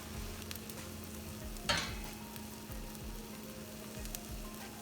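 Chorizo and eggs frying in a pan, a quiet steady sizzle with a faint hum underneath and one brief louder scrape or crackle.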